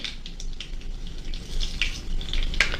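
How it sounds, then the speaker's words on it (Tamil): Mustard and fenugreek seeds sizzling in hot oil for a Jaffna-style brinjal milk curry, a close hissing fry with scattered sharp pops and crackles rising slightly over a few seconds. "எண்ணெய் சூடாகிட்டது இப்போ நாங்கள் இதில் கடுகு சேர்த்துடலாம்"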